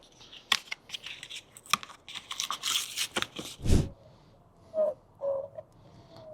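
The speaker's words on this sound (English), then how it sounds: "got the double-sided tape" Double-sided tape is pulled and torn off the roll while a car's front lip is being fitted, producing a close run of sharp ripping and crackling bursts followed by a few quieter, softer sounds.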